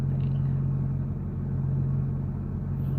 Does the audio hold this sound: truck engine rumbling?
yes